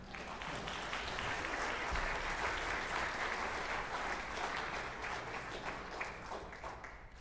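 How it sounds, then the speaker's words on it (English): A concert audience at Igor Lipinski's piano illusions show for the Gina Bachauer International Piano Foundation gives a sustained round of applause, even and moderately distant, easing slightly toward the end. "Let's give him one round of applause."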